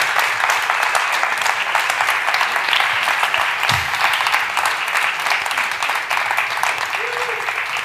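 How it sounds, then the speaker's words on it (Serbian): An audience gives sustained applause at a talk, steady crowd clapping that fills the room without pause, fairly loud and even throughout, with a brief low thump partway through. "možete neki mlaki aplauz"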